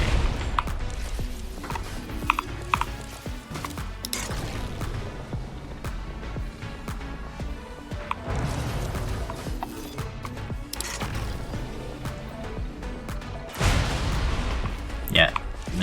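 Missiles fire at a target in the building game Trailmakers, sounding as repeated booming launches and impacts in irregular bursts, with a heavier crash near the end, while a voice talks over them.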